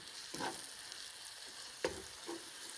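Filling for lasagna stuffed peppers browns in a pan with a soft, steady sizzle, broken by a few brief spatula scrapes and taps; faint and close, with no talking.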